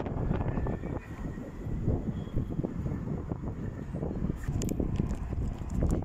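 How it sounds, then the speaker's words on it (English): Strong wind buffets the microphone at a Bulwell tram stop on the Nottingham Express Transit line, producing a continuous loud rumbling roar with gusty swells and no talk. "the wind's strong up here"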